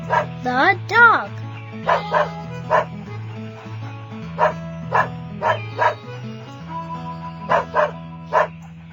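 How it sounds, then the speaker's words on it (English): A dog barks repeatedly in a lively, evenly spaced series over a simple background melody, near and clear, with a brief whimpering yelp at the start. "The dog."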